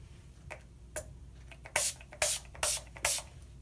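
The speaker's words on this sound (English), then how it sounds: "Could set it with some setting spray, your face" Mary Kay makeup setting spray is pumped onto a face: a few faint clicks of the nozzle, then four loud, close, short hissing bursts in a steady rhythm.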